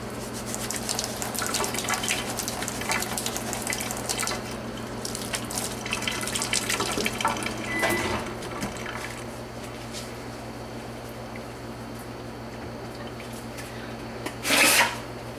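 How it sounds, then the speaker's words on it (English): Gloves rinsed under a running tap during hot process soap making give a close, continuous rush of water with splashing and rubbing, easing off midway and ending with a brief louder splash. "I'm just gonna wash my gloves off here."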